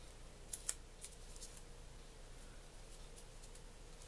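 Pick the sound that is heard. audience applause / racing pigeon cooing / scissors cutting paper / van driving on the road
scissors cutting paper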